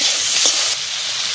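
Bay leaf and spices fry in hot oil with a loud, close, continuous sizzling hiss that eases a little partway through; no speech is heard.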